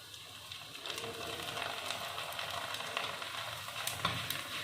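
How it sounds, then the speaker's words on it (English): Poha sizzling and frying in a blackened pan, a steady broadband crackle with occasional sharper pops and scrapes, close and continuous with no talk. "Now I am frying the poha."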